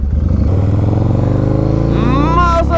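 A motorcycle engine running close by at the start of a test drive, a steady loud rumble that rises in pitch as the bike pulls away, with a voice over it near the end.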